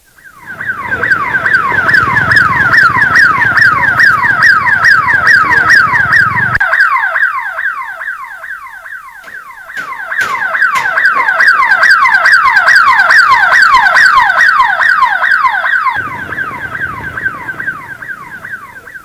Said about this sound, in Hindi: तकनीकी खामी के चलते सायरन बज उठा